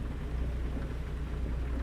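Steady rain hisses in American Truck Simulator, a dense, even downpour with a low rumble underneath and no talking.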